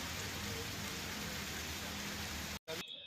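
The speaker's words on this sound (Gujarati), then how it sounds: "હજુ તો ચોમાસાનો પ્રથમ વરસાદ જ આજે સવારથી પડી રહ્યો છે" Steady, heavy monsoon rain pours down onto a waterlogged street in Porbandar, a dense continuous hiss close by that cuts out abruptly near the end.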